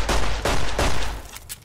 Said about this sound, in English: We'll get a couple shots into the main body.